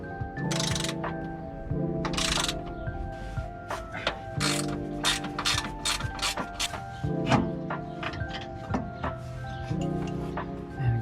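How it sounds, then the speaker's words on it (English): Ratchet wrench clicking steadily as it undoes four 13mm nuts holding the rear sway bar on a Mk2 Ford Focus, close and rhythmic, with short bursts of rapid pawl clicks and brief pauses between them. "it's just time to remove those 4 13mm nuts, and then we can drop the sway bar out"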